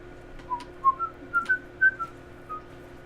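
Someone whistles a short tune of about eight rising and falling notes, bright and fairly close, over a quiet background hum from a Dark Souls 3 play session.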